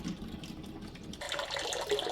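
Hot water running out of the tap of an Avalon water cooler during descaling, a steady faint splashing flow that grows brighter and hissier partway through and carries on with no voices.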